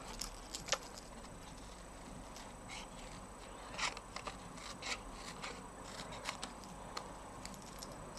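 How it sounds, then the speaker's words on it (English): Scissors trim a narrow border around stamped paper for a handmade card, heard as faint, sparse snips and light paper rustles in a quiet room. "I'm just going to trim around it, just leaving a little skinny border"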